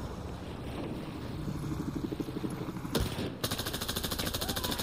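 Rapid automatic gunfire rattles in Battlefield 4, first as a muffled, uneven stream, then as a loud, tightly spaced burst near the end.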